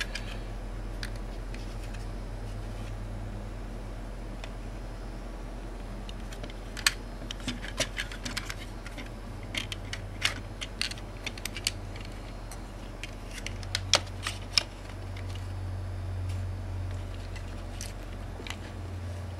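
Plastic toy fortress ramps, from a Kabaya Fortress Maximus, snapping into place as the set folds up: scattered small sharp clicks in irregular clusters, close and fairly quiet over a steady low hum.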